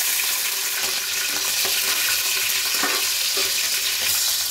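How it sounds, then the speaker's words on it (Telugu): Cumin, mustard seeds and a little fenugreek fry in hot oil with a loud, steady, close crackling sizzle and scattered small pops throughout, with no talking. "ఆయిల్ వేడెక్కాక కొద్దిగా జీలకర్ర, కొద్దిగా ఆవాలు, చాలా కొద్దిగా మెంతులు, ఇవి కొంచెం వేగాక పచ్చిమిర్చి"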